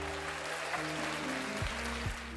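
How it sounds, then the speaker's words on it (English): A round of applause rises briefly on a podcast, a soft, continuous patter of clapping laid over steady tonal sound, fairly faint and even from start to finish. "Give yourself a round of applause for making it here."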